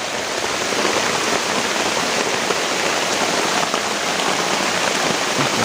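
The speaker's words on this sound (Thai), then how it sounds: "ฝนมันมาซะก่อนนะครับ" Heavy rain pours steadily on a forest, a dense, loud, unbroken hiss that fills the whole stretch with no other sounds standing out.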